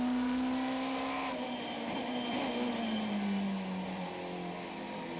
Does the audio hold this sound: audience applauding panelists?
no